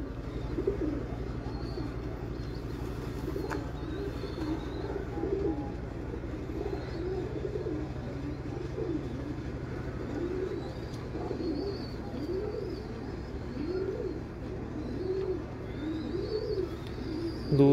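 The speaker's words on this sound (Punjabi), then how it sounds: "ਦੇਖੋ ਹਾਂ ਤੁਸੀਂ ਵੀ ਕੈਸਾ ਹੈ ਕਬੂਤਰ।" Pigeons coo repeatedly in a breeder's loft, soft rolling coos rising and falling steadily over a constant low hum, with occasional faint chirps and no talking.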